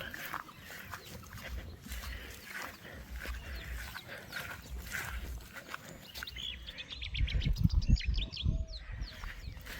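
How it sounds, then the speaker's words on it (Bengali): Birds chirping and calling in a rural village after heavy morning rain, scattered tweets over a low rumbling background, with a louder burst of activity near the end and no talk. "প্রাকৃতিক গ্রাম্য পরিবেশ পাখিরা শুনতেই পারছেন"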